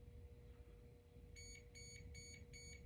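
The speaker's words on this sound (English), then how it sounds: "my battery alarm just went off." A battery alarm going off in a room where a Ceriatone Chupacabra amplifier is being tested, four quick high-pitched beeps in an even rhythm, fairly clear over a quiet background hum.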